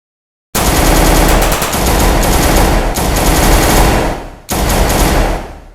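Sustained loud automatic gunfire from soldiers firing from a wall, a dense continuous rattle of rapid shots broken by two short pauses, with no voices.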